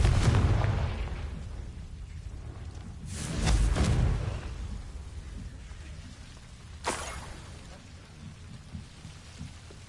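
A Confringo fire-blast spell in Hogwarts Legacy bursts with a rumbling explosion, followed by a sharper second blast a few seconds later, over a rain-like background hiss.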